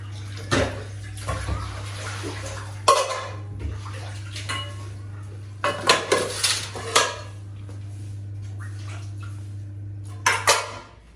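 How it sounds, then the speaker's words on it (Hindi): Pots, dishes and utensils clatter and clank down in bursts during kitchen cleaning, with running water and a low steady hum between the sharp, close knocks. "सब बर्तन नीचे रख देती हूँ"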